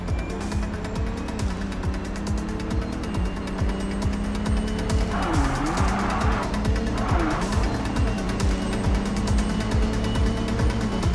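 A car driven in the video game MindsEye, a continuous engine roar with revving surges and brief tire squeals during a chase, loud and steady throughout.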